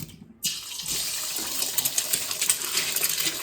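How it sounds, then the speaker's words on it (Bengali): An egg dropped into a pan of cooking Maggi noodles sets off a sudden hiss that carries on as a steady, close sizzle with small crackles, and no voices are heard. "এই যে আমরা ডিমটা ছেড়ে দিলাম।"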